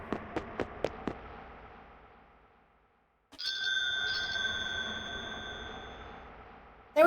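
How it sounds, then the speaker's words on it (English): A basement bell chiming in the video game Ys II: a quick run of bright struck tones, a short pause, then a sustained ringing tone that lingers and fades before another strike at the end. "let's go ring the bell in his basement"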